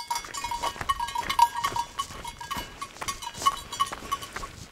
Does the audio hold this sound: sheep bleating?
yes